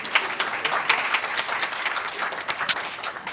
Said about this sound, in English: So if you have to clap, this is the time